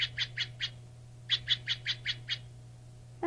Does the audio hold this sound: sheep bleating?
no